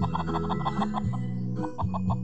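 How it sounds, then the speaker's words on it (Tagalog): A chicken clucks in a quick repeated rhythm, close and fairly clear, with a short pause partway before the clucking resumes. "Manok na tomboy."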